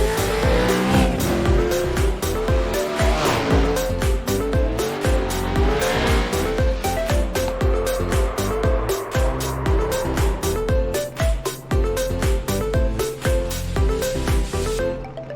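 Race cars in the iRacing sim lap the one-mile 2008 Phoenix Raceway, engines howling loud and steady as cars pass one after another, with rhythmic gear changes and bursts of tire squeal.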